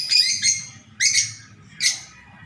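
Lovebirds in a hanging cage giving three sharp, bright chirping bursts in quick succession, loud and close, with a low background hum between calls.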